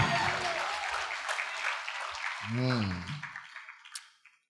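Church congregation clapping during a service, a brief burst of applause that fades while a voice cuts in partway through and then trails off.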